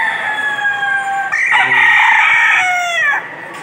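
A rooster crows close by, one long loud cock-a-doodle-doo with a rising middle and a drawn-out ending, clear over faint background noise.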